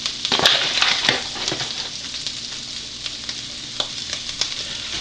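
Flour cooks in sausage grease in a pan, a dense, steady sizzle broken by sharp scraping stirs early on and a few later clicks, close and loud with no voices.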